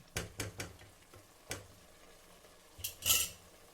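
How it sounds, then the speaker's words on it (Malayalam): Chicken biryani mixture being stirred in a pot, with a few sharp spoon-on-metal clinks and scrapes spaced irregularly, close and fairly quiet, with a brief louder rattle near the end. "ഇനി എല്ലാം കൂടി ഒന്ന് മിക്സ് ചെയ്ത് കൊടുക്കാം."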